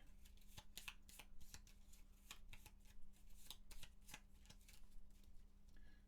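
A deck of cards shuffled for a Gloomhaven board game, a faint, close series of quick riffling and snapping bursts over a low steady hum.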